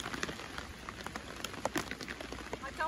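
Rain pattering on a makeshift plastic umbrella in a French farmhouse garden, a steady close tapping of drops on plastic with scattered louder hits throughout.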